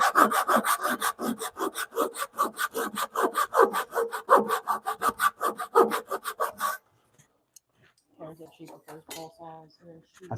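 A hand saw cuts a curved wooden bunk rail in quick, even rasping strokes for several seconds, then stops, and a voice speaks afterward.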